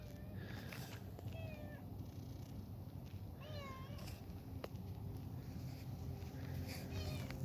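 A cat meows several times, short rising and falling cries over a steady background hum, moderately close.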